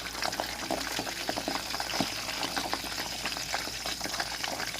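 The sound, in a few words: pork belly crackling as it deep-fries in oil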